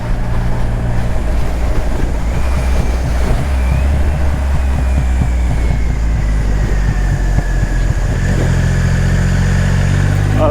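Triumph Rocket 3 R with its massive stock engine under way, a deep, lazy loping rumble of closely spaced firing pulses, loud and steady with a slight pitch shift near the end, no talking.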